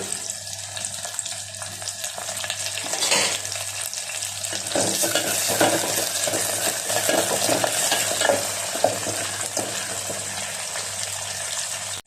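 Curry leaves crackle and sizzle in hot oil in a pan while cooking a drumstick and raw mango pulusu, with a steady hiss and stirring scrapes, and a louder burst of spattering midway.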